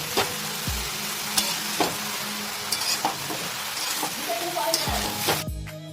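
Brinjal fries on a high flame in a pan, giving a constant loud sizzle broken by a few scraping stirs and clanks of a utensil.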